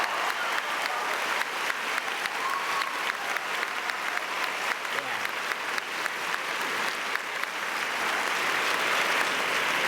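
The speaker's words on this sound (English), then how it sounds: "give yourself a round of applause, please." Audience applause following a motivational speech, a steady dense wash of clapping at moderate level that holds for about ten seconds without voices.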